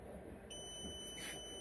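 A Growatt 6000T inverter beeps during a firmware update: a high-pitched electronic tone sounds, cuts out briefly, then resumes with a second brighter chirp over a steady low hum.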